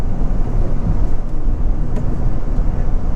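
A 2006 Mini Cooper S John Cooper Works R53 rumbles loudly and steadily from close range, its exhaust giving a dense, continuous burble with a few faint crackling pops.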